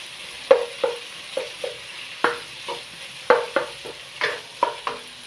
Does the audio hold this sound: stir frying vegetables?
yes